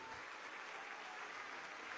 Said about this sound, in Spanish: Aquí está Fernando Soto Rojas, a quien pido un aplauso para él y para su hermano